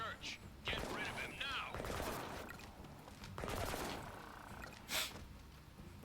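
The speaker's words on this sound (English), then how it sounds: "We heard gunshots" Gunfire from the video game Disaster: Day of Crisis, several sharp bursts and a loud shot near the end, mixed with game sound effects and a voice speaking.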